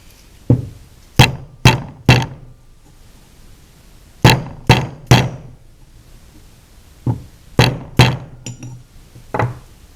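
Hammer blows on a steel bar drive a bushing into a John Deere JD410 backhoe cylinder, sharp metallic strikes landing in quick clusters of two to four, loud and close with short gaps between groups.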